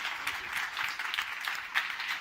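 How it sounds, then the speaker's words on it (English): Enthusiastic audience applause for a panel at a film locations masterclass, continuous dense clapping at fairly close range with no talk over it. "a massive, massive round of applause for an amazing panel"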